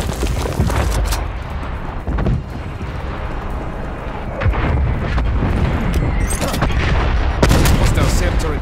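A destroyed SAM turret explodes in Call of Duty Cold War team deathmatch: several heavy booms and crackling gunfire break out over a constant roar of battle, with a few sharp blasts standing out near and loud.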